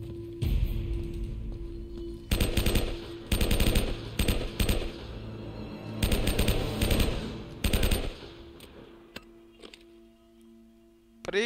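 Gunfire in the video game Uncharted: Drake's Fortune, loud bursts of rapid automatic shots coming in repeated volleys with short pauses between them, over a steady low game hum.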